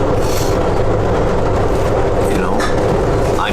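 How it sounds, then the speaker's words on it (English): Steady, loud rumble of a moving train heard from inside the cafe car, with continuous rolling roar, faint wheel squeals and rattles throughout. "if you're hearing a lot of noises, that's just train stuff going on."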